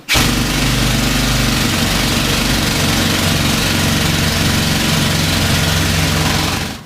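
Pneumatic rock drill running inside the Old Hundred Mine in Silverton, a loud continuous rattling roar that starts abruptly, holds steady for several seconds, then cuts off, with no talking over it.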